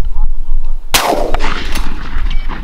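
A single sharp shotgun blast while hunting mourning doves, close and loud, ringing out briefly over wind noise outdoors.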